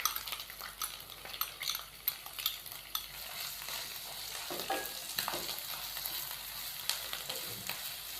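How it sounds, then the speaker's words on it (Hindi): Chopped onions frying in a pan, a steady broadband sizzle with scattered clinks and scrapes of a utensil stirring against the metal, no voices. "प्याज को हम हल्का सा फ्राई कर लेंगे, तकरीबन 2 से 3 मिनट के लिए।"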